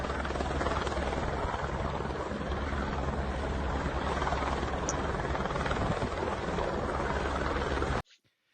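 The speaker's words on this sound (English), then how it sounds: "it looks like that helicopter is lighting stuff on fire, not putting out a fire" A continuous helicopter drone with rotor chop, steady and moderately distant, running until it cuts off abruptly near the end.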